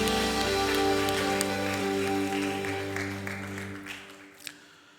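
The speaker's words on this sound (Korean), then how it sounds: "주님께 박수로 영광 올려드리겠습니다" A young adults' church congregation at Sunday worship applauds to glorify God, a wash of many hands clapping over lingering sustained organ or keyboard chords that slowly fade away.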